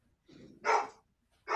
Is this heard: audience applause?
no